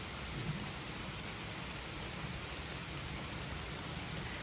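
Steady rain falls on a cottage garden border in late spring, a dense, even hiss of drops on foliage and ground that continues unbroken throughout with no voices.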